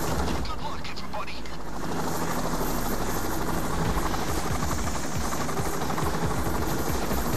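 A helicopter in the video game Payday 2 arrives for an escape, its steady rotor chop loud and continuous throughout, with scattered gunfire crackling underneath.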